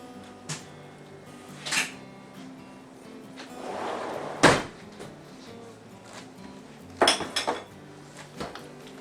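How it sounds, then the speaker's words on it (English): A pot of venison chili being stirred, with a few scattered clinks and scrapes of a utensil against the pot and a louder knock midway, close by and otherwise quiet, no talk. "It's good to stir the pot every now and then."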